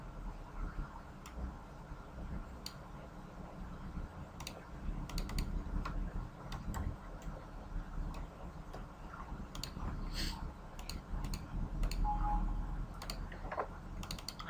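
Typing on a computer keyboard while building a search form in Microsoft Access: a steady run of soft, close keystroke clicks over quiet room noise, with a few sharper taps standing out, no talking.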